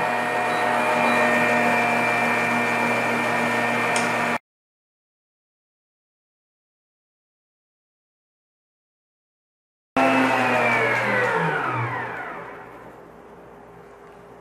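An electric mixer whirs steadily, beating an egg cream, then after a silent gap runs again and winds down to a stop.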